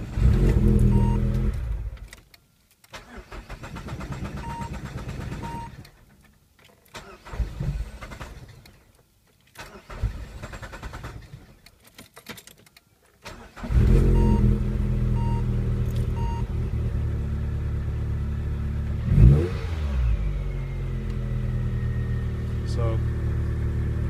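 Peugeot 206 GTI 180 with an EW10J4S head on an EW12J4 engine, which has a starting issue: the engine cranks and stumbles through several start attempts with pauses between, then catches and runs steadily with a brief rev, while a person talks nearby.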